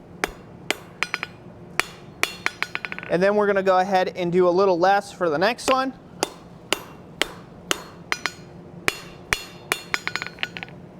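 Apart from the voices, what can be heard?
hammer forging a metal rose petal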